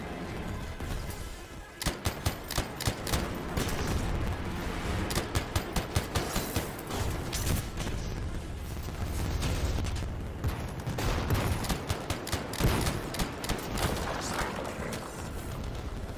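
Shotguns firing in the action game Anthem, rapid bursts of sharp blasts in clusters over a busy rumbling combat backdrop, loud and close, with quieter lulls between volleys.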